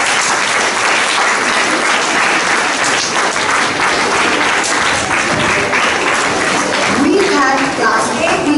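A school audience applauds a middle school class's elocution performance at St Joseph's College, Nainital, with dense, loud, sustained clapping filling the whole stretch and a faint voice surfacing near the end.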